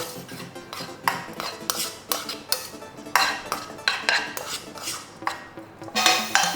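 A utensil stirs and mixes vegetables in a metal pan while cooking egg fried rice, giving repeated clinking and scraping strikes in a steady, close rhythm with no talking.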